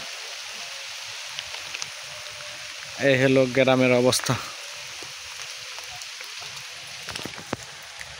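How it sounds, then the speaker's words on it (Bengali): Steady rain patters and hisses throughout in a village, with someone briefly speaking partway through and some scattered louder drips near the end. "দেখছেন কিরকম বৃষ্টি।"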